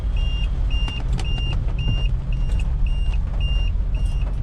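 Car engine running while being driven and shifted through the gears, a low rumbling drone overlaid by a regular, evenly spaced electronic beeping chime that repeats throughout.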